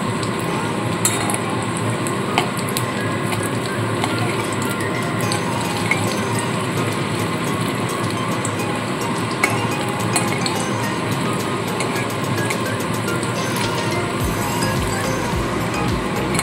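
Stuffed papad frying in a pan and turned over, a steady low sizzle of oil with light clinks and scrapes of a utensil throughout.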